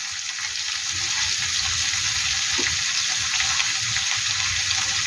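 Onion, capsicum and tomato fry together with spices in a pan, giving a steady, fairly loud sizzling hiss that holds evenly from start to finish.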